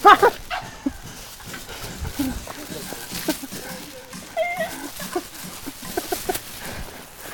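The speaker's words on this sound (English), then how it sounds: "Uh-oh, monkey fight." Monkeys fighting in Ubud, Bali let out sharp shrieks and yelping cries, loudest at the start and again midway, mixed with scuffling and people talking nearby.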